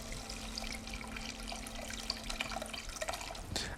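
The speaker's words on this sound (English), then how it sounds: "Add a bit of water, 1 cup of water." Water runs steadily from a tap and pours into a pot for cooking rice in a West African dish, a continuous close splashing stream with a brief louder gush near the end.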